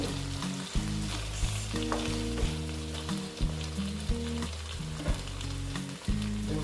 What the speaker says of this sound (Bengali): সর্ষেটার সঙ্গে একটু ভাজা ভাজা হবে